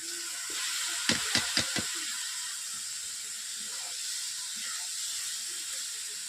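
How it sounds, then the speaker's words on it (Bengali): Boiled cabbage tipped into a hot wok of fried spices for a cabbage-and-potato dish, giving a steady broad sizzle throughout, with a few sharp metallic clanks close together early on. "এরপর সেদ্ধ রাখা কফিগুলোকে আমি কড়াইয়ের মধ্যে দিয়ে দিচ্ছি।"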